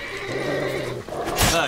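A horse whinnies in The Witcher 3: Wild Hunt, a clear rising neigh near the end over a steady game backdrop while someone talks.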